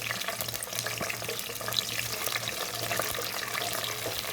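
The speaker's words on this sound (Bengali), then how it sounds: "এখন এগুলিকে একটু ভেজে নিব আমি" Cinnamon, cardamom, peppercorns, cloves and bay leaves fry in hot oil with a continuous close sizzle and crackle and a low steady hum beneath, no talk.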